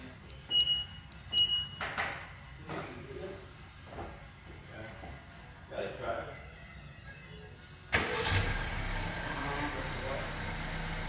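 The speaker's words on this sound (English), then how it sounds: "Car starts, runs for about 15 minutes, and then will shut itself off." A 2019 Honda Accord is remote-started from its factory key fob: a few short beeps and clicks, then near the end the engine catches and settles into a steady idle.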